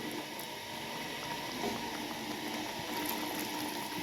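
Bottle gourd curry simmering on low heat after a glass of water is added, a soft continuous bubbling and hiss, faint and steady.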